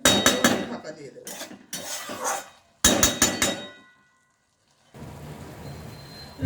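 Metal clatters as a lid is set over a cooking pot of cabbage curry: several bursts of clanking and scraping, a brief silence, then a steady low sizzle.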